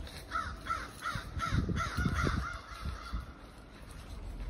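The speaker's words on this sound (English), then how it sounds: "Crows don't like what I'm doing." Crows cawing in a forest near an amateur radio antenna site, a series of about half a dozen harsh, repeated caws from fairly close by, fading out into quiet woodland background.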